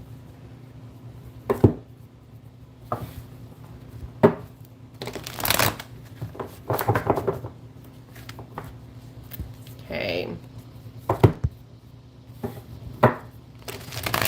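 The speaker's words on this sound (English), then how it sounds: "Second shuffle for Sagittarius." Tarot cards being shuffled in irregular bursts of riffling and slapping, close up, with a single brief spoken word and otherwise quiet gaps between the shuffles.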